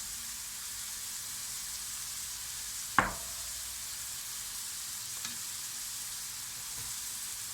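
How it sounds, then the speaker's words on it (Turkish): Vegetables sauté in a pan with salt for a spinach and noodle börek, giving a soft, continuous sizzle close by, with one sharp clink partway through and a faint tap later. "Bunu da güzelce kavuracağım. Üzerine tuzumu da ilave ediyorum yeterince."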